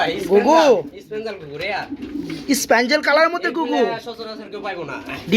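A pair of pigeons kept for sale with their chicks coos close by, the low rolling calls mixed with nearby talking that runs through most of the clip.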